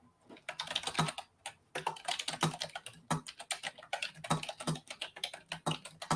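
Rapid, loud clicking of a mechanical keyboard being typed on, bursts of keystrokes with brief pauses, close up and with no voices.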